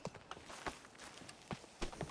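Horse hooves walking in a video game, a steady clip-clop of soft, muffled steps over a constant background hiss, fairly quiet and with no talking.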